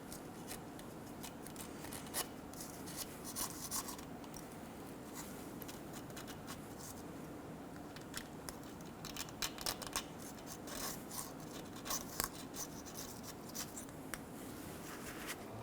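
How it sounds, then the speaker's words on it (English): A razor blade scraping crust and rust off the metal mating surface of a 2000-2007 Ford Focus transmission pan, a faint continuous rasping and scratching with irregular short strokes close by. "Using a razor blade, we're going to go around and we're going to clean the mating surface"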